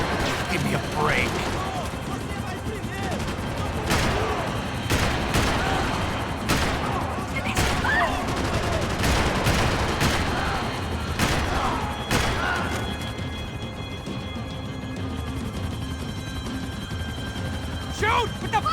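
Gunfights in Max Payne 3 bring repeated bursts of close gunshots and rattling automatic fire throughout, with voices shouting in the middle of the shooting.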